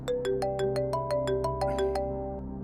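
A phone ringtone plays a bright repeating melody of quick electronic tones, clear and steady, with no voices.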